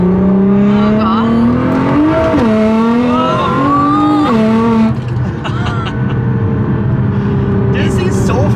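Nissan GT-R R35 pulling hard in third gear, a steady engine note climbing in pitch with gear-linked steps, loud and close from the cabin, with talk over it.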